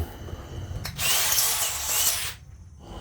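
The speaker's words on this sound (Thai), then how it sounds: "เวลาเจาะรูยึด หน้าไม้นะครับ" Power drill boring holes into the wooden seat of a bar stool, one loud, steady whirring burst of about a second and a half, preceded and followed by quieter workshop noise.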